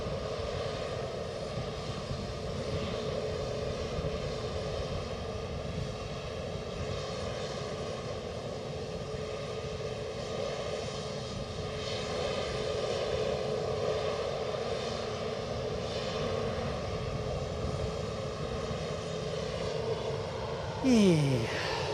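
EasyJet airliner near Edinburgh Airport, a steady jet engine drone with a faint tonal hum that swells slightly midway, ending with a short rising whine.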